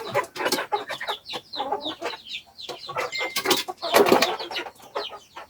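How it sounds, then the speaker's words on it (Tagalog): Chickens cluck busily and repeatedly nearby, several birds overlapping in an uneven, chattering rhythm with no talking. "Ang ingay ng aking mga alagang manok."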